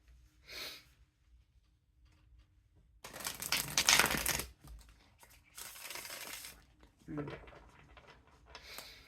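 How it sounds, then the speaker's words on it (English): Tarot cards from the This Might Hurt deck being shuffled, three bursts of dry riffling and flicking over a few seconds with quiet pauses between, close and moderately loud. "One more shuffle"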